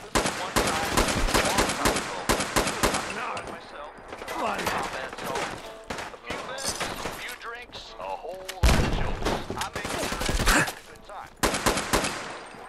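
Rapid gunfire and explosions from a firefight in Fallout 4, dense volleys of loud shots with brief lulls, a game voice briefly heard among the shooting.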